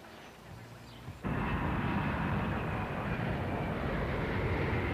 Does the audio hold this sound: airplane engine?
yes